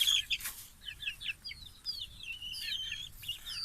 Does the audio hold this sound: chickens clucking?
yes